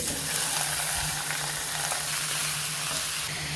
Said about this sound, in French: On rajoute les morceaux de viande.